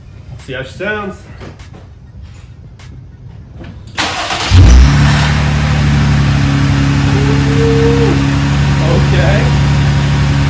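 A Jeep Wrangler JL with a new MagnaFlow exhaust starts up and settles into a loud, deep idle with brief revs, following a moment of speech over quiet background.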